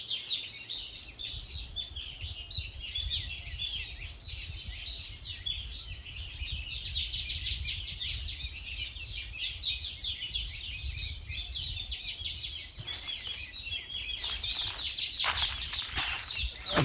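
A Verditer flycatcher gives a steady run of bright, high chirps and twittering phrases, moderately close, with a soft low background hum and a busier burst of calls near the end.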